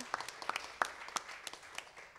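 Light applause from a small audience at a panel discussion, a scattering of distinct hand claps at low volume.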